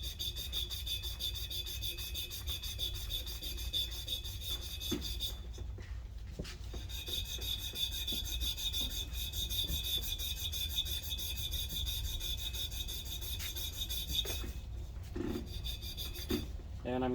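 Wet sandpaper rubbing back and forth on a brass trumpet part, a steady close rasping scrape with short pauses and a constant hiss and hum of the workshop behind it.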